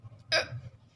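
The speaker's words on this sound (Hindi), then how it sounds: "देखते हैं कि कितनी देर तक मुझे हिचकी आती रहती है।" A single short hiccup from a woman, close and distinct, a sharp vocal catch over faint background hum.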